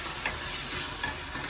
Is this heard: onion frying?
yes